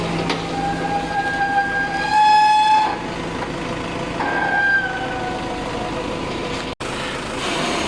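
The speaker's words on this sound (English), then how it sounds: "Second compressor." A compressor on an automatic block and brick making machine drones steadily amid industrial noise, with a few sustained whistling tones rising over the hum and a brief sharp break near the end; nobody speaks.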